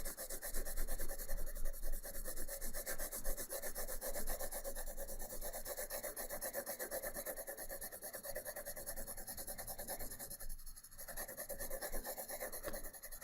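A pencil lightly shades a mid-gray background on paper in a continuous soft, dry rasping scratch that stays steady and close throughout.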